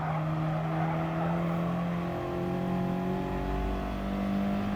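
An Audi TT Cup Gr.4 front-wheel-drive race car in Gran Turismo Sport at Alsace drones along with a sustained engine tone that shifts pitch as it changes speed, accompanied by faint tire squeal, steady and without voices.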